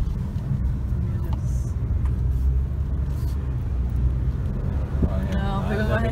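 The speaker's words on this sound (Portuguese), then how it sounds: "Vai vir um caminhão grande." A large truck approaches on the winding Serra do Rio do Rastro mountain road, heard as a steady low engine and road rumble that grows slightly louder, with people talking near the end.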